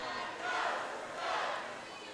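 A spirited high-school basketball crowd, the student section in Christmas gear cheering at a boys varsity game between Edgewood and Indian Creek: a dense, steady roar of many voices filling the gym, swelling slightly throughout.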